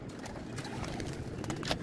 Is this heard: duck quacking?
no